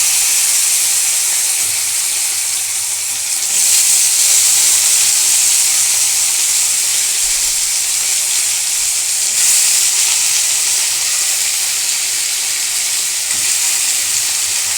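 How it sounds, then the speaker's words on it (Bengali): Mixed vegetables frying in hot oil with panch phoron in a wok, a loud continuous sizzle and hiss with occasional surges as the pan is stirred, steady throughout with no voices. "এর জন্য আমি কড়াইতে তেল দিয়েছি, পাঁচফোড়ন দিয়েছি, সবজিগুলো দিয়ে দিলাম।"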